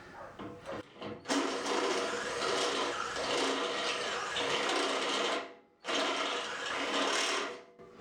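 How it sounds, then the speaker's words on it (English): A Harbor Freight step drill deburring a hole gives a loud, whirring grind that runs for several seconds, cuts off briefly, then comes back for a second shorter pass. "This is just a Harbor Freight step drill."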